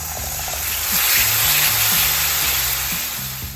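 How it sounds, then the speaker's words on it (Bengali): Spice paste for a red-lentil fritter curry sizzles steadily in a pan on gentle heat, a continuous close hiss with a faint low bubbling underneath, no voices. "মশলাটা ভালো করে কষিয়ে নিয়েছি"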